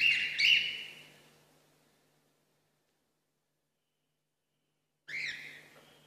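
Birds performing in a live stage show at the Opéra de Massy give two short bursts of bright chirps and whistles, one at the start and another after a long silent gap, set against a steady low hum.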